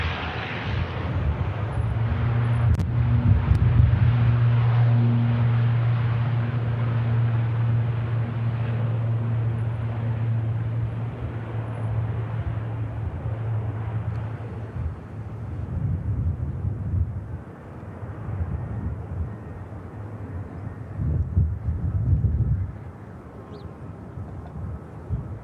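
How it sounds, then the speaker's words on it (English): An ATR turboprop airliner takes off at Manchester Airport with a steady, droning engine hum that rises and fades into a distant, uneven rumble. "There goes the ATR."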